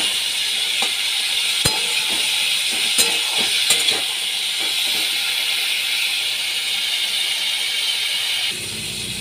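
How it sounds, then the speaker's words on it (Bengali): Yardlong beans frying in oil with turmeric and salt, giving a steady bright sizzle and hiss with a few sharp utensil clinks, close and continuous until it drops off near the end. "নুন হলুদ দিয়ে ভালো করে আমি ভেজে নিচ্ছি"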